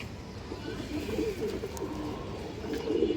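Pigeons coo in low, throaty, rolling calls, several soft bursts repeating over a steady room background, fairly close and moderate in volume.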